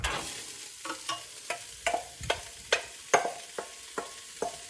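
Chopped carrot and celery are stirred into softened onion in a pan, giving a faint sizzle behind quiet, irregular scraping knocks of a utensil, roughly a dozen soft strokes with no talking.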